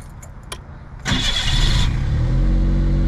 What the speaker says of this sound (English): now the car starts right up. No hesitation, no nothing.